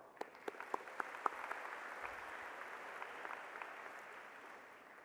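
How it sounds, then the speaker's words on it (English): Applause from a graduation audience at the Aiken High School 2025 ceremony, given for the parents and teachers. A few sharp claps stand out at the start, then steady crowd clapping continues at moderate volume for about five seconds. "Big round of applause for them"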